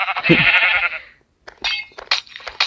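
A single long, wavering Minecraft sheep bleat, followed by a pause and then a few short clinking, crackling freezing effects.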